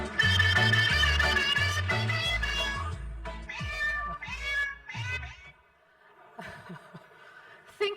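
Cat-like meowing tones woven into a musical track with a deep bass line, the meows sounding in sequence before fading near the end.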